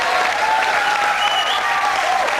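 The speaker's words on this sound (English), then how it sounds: "I think that deserves a round of applause, ladies and gentlemen" A studio audience on a 1991 television dating show breaks into sustained, loud applause, with a continuous wash of clapping and faint voices and a whistle rising above it.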